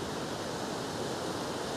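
A wide, shallow river running fast and swollen from days of rain past a hillside Miao village: a continuous, dense rushing roar, steady and fairly close, with no voices.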